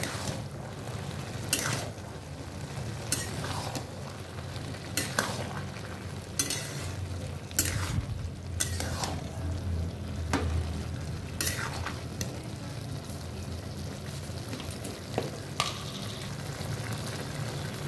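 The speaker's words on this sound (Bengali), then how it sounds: "ঢাকাটা খুলে নেব। ভালো করে নেড়ে নেব।" Spoon stirring bottle gourd curry (lau ghonto) in a pan, with repeated scraping strokes at irregular intervals over a steady low sizzle, close and moderately loud, no voices.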